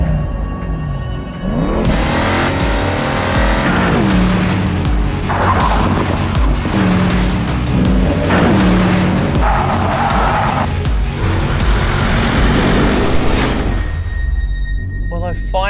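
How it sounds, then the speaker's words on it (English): A powerful 2019 Porsche Panamera GTS twin-turbo V8 engine roars loudly and continuously, revving up and down with tire squeal and a voice talking over it. "Listen to that engine."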